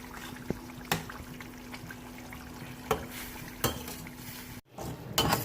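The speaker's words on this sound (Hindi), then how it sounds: "अब जो है हम इसमें ये चिकन डाल देंगे" Boneless chicken goes into masala in a cooking pot for a Pakistani handi, with a few sharp metal clinks of a utensil against the pot over a soft, faint background.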